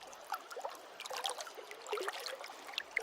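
Water lapping and trickling at a waterside, a soft, steady patter of small splashes and drips, fairly faint with no voices.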